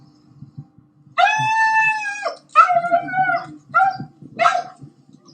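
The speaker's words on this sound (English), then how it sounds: "this is the moment the dog and the human were reunited" A dog reunited with its owner lets out long wavering howls and whimpers in several drawn-out bursts, close and loud over faint background noise.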